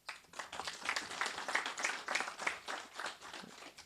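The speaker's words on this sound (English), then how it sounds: "I think they deserve an applause." Applause at a ZETDC revenue assurance launch, honouring ZESA Holdings management: a modest, fairly distant round of clapping that swells and holds with individual claps audible, then eases off.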